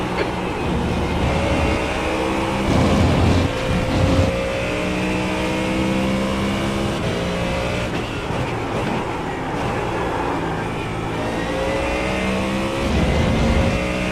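A GT3 race car engine in a sim racing game lapping Road America, loud and continuous, its pitch climbing and dropping through gear shifts and throttle changes, with no talk over it.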